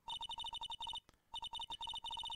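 Mobile phone ringtone from the video game Phoenix Wright: Ace Attorney, ringing after a redial, with quick repeated electronic beeps in bursts, broken by a brief pause, clear and steady.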